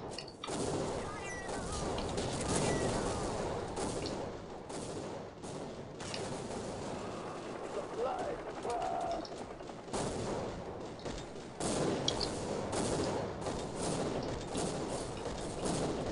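Explosive weapons fire continuously in a Counter-Strike Online match as dense blasts and rapid gunfire pile up into a loud, chaotic wall of noise, with game effects layered over it.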